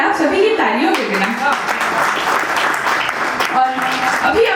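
Audience clapping at a regional school cultural music festival, uneven bursts of applause mixed with voices and crowd chatter that continue throughout at a fairly loud level.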